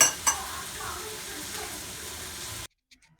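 Chicken for BBQ tikka macaroni fries in oil with a steady close sizzle and a couple of utensil clinks at the start. The sizzle cuts off abruptly, leaving near silence.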